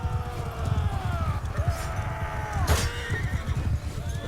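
A horse neighs with a wavering whinny over steady clip-clop hoofbeats in the video game Mount & Blade Bannerlord, moderately close and clear, with little else heard.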